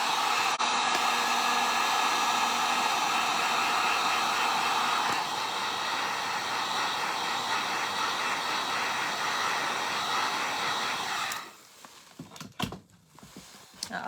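A hair dryer blows steadily and loudly at close range to dry paint on a fall gnome craft piece, then cuts off near the end, leaving faint handling noises.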